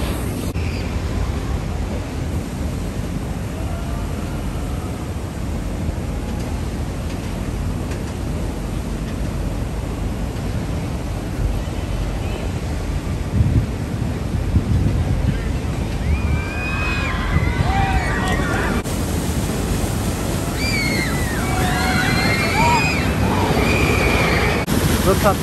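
Water rushes and sloshes continuously at the Gully Washer river rapids ride at Six Flags Fiesta Texas, a broad steady wash with wind buffeting the microphone and people talking nearby over it.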